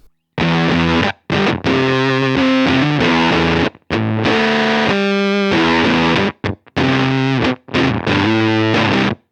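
Electric guitar played through a modded EQD Barrows distortion pedal, heavy distortion, chords and riffs ringing out loud and thick, with brief pauses between phrases.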